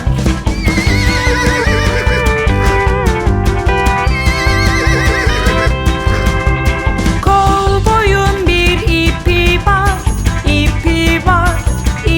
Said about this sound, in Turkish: Kovboyun bir atı var Atı var, atı var